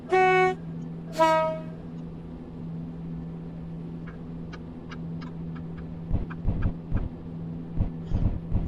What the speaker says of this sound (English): Honk my horn because there's a level crossing ahead of us.